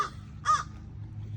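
An angry bird in a tree gives a single short, harsh caw, fairly close and clear, down at a golden retriever below, over quiet outdoor background.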